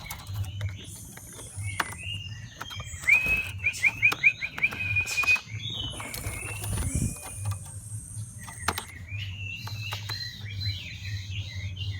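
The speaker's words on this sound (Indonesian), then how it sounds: "bunyi ngeplongnya burung ini." A female orange-headed thrush sings short bright whistled phrases and trills over a steady low mechanical hum and clicking, fairly close, with no talking.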